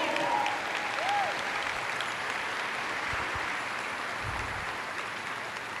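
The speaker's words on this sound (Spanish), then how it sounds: "Dale un aplauso al Señor." A church congregation applauds steadily for several seconds, a broad wash of clapping with faint whoops near the start, fading slightly at the close.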